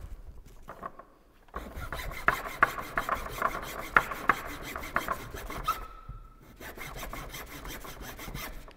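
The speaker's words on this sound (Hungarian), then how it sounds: "Hát ahhoz egy ilyen kis kicsi fűrész elég is." A small hand saw cuts wood for a toy car, its rhythmic rasping strokes close and steady, pausing briefly midway before the sawing resumes.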